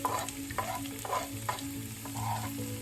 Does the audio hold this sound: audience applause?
no